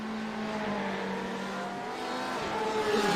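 Steady engine drone of a GT3 race car rolling down pit road in a racing video game, a sustained mid-pitch hum with faint shifting tones, continuous and fairly close throughout.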